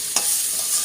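Red amaranth greens with poppy seeds stirred in a hot pan: a brief spatula scrape over a steady close sizzle of frying.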